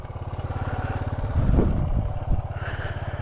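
A 1985 Yamaha Tri-Z 250 engine turns over with a rapid, even chugging pulse, close and loud, rising into a rougher, heavier burst midway before settling back to the steady cranking rhythm.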